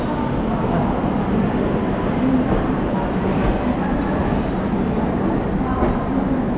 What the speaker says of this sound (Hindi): तो दोस्तों ये रही ट्रेन, आ गई है भाई।